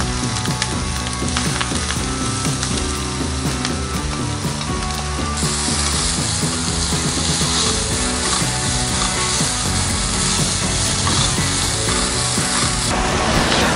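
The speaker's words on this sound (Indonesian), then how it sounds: "Nah, yang paling pertama dimasukin itu jahenya dulu, dioseng sampai warnanya berubah." Ginger stir-fried in hot oil for chicken, a loud steady sizzle and crackle with occasional scraping of a spatula, continuous throughout with no talking.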